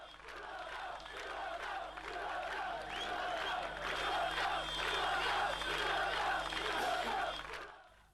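Croatian crowd shouting and chanting at night while burning Yugoslav flags, a dense roar of many voices rising and swelling steadily for several seconds before cutting off.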